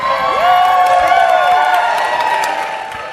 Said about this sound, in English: we get a roar in the crowd